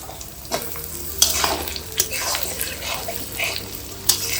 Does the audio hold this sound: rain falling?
no